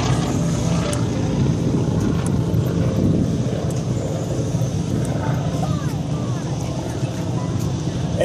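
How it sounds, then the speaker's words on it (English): A warbird propeller aircraft flies at a 2014 air show in Atlanta, Georgia, its engine a steady, continuous drone with wind buffeting, while a voice talks faintly underneath. "over roll by former F-16 pilot Skipper Heil, now making the classic warbird stand."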